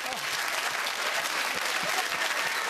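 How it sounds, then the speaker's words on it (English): A studio audience on the Esther show breaks into sustained applause, dense and steady throughout, with no pauses or speech rising above the clapping. "And the audience clapped, and as the applause died"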